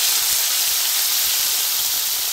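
Ground ginger, garlic, onion and tomato paste sizzles in hot oil, a loud, continuous, steamy hiss that stays steady from start to finish.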